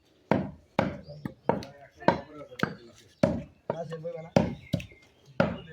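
Beef being hacked with a knife in a village setting: a dozen or so sharp, heavy chopping strikes at an irregular pace, close and fairly loud, with people talking in between the blows.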